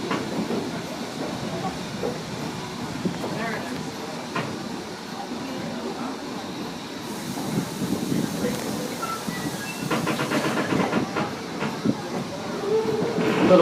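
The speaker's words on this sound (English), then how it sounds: "the engine pulling our train today" A steam locomotive pulls a passenger train on the Strasburg line, rumbling and clattering along the rails with a steady hiss, wheels clicking irregularly, while voices murmur faintly in the background.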